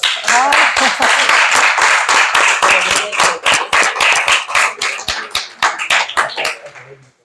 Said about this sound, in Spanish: Yo lo que digo, un aplauso para...